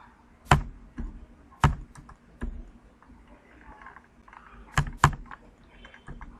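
Scattered keystrokes on a computer keyboard while data is typed into a list, a few sharp taps spaced irregularly with pauses between them, close and clear in a quiet room.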